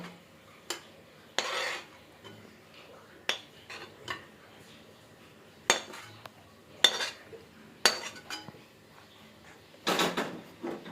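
A spoon scrapes and clinks against a pan as a dry soybean dish is served onto a plate, giving sharp, separate metallic knocks and scrapes at irregular intervals against a quiet background.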